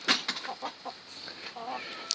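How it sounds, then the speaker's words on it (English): Backyard chickens clucking near a feeder in a spring garden, a run of short, fairly close clucks and calls with a soft squawk at the end. "It's a feeder for the chickens."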